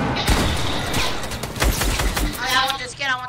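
Fortnite gunfire rattles in quick bursts of shots amid a busy match, loud and close, with a voice talking over part of it.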